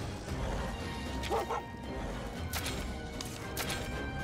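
A burning dog companion in Monster Hunter Stories 2 whimpers and yips in short bursts, fairly faint under game sounds.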